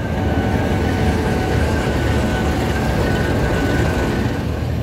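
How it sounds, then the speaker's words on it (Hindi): Steady low rumble of a train idling at a platform in Pakistan after a locomotive change, a continuous dense drone with a faint tonal hum, no voices. "सामने ट्रेन लग चुकी है, लोकोमोटिव भी चेंज हुआ है"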